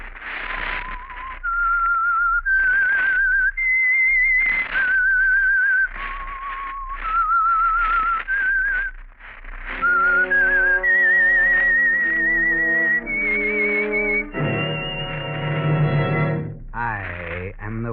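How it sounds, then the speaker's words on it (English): A whistled theme tune for The Whistler radio program rings out as a series of clear, echoing melodic phrases, then swells into a sustained orchestral chord before cutting off. "That whistle is your signal for the Signal Oil Program"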